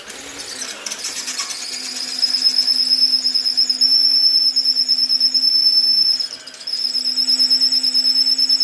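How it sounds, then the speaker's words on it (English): A power tool sharpening a drill bit spins up into a high, steady grinding whine with a low motor hum underneath, briefly dipping as it slows near the end, then resuming at full pitch, close and loud. "That's to sharpen a drill bit."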